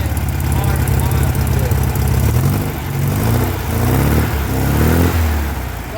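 A Volkswagen engine idling after a change to new spark plugs, a loud steady low rumble with a slight rise in revs, while people talk over it.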